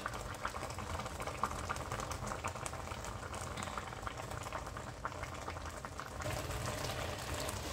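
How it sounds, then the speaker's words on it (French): Pondu (cassava leaves) simmering in a pot for saka saka with shrimp and smoked fish: a steady, close, continuous bubbling and gurgling that holds even throughout, with no voices. "on laisse mijoter les pondous comme ça pendant quelques minutes"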